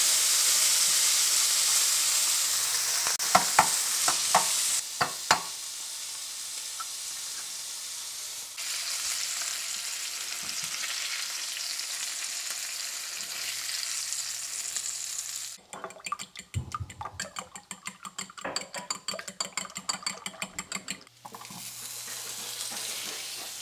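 Food fries in a Caraway non-stick pan with a steady close hiss of sizzling, broken by sharp clacks and scraping bursts as it is turned and stirred, the sizzle easing briefly before returning.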